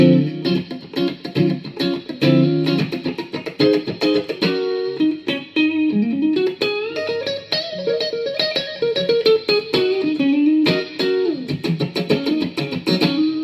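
Distorted electric guitar played through a Mooer GE-200 multi-effects processor plays riffs and a bending lead line through heavy effects, loud and close, with no voices.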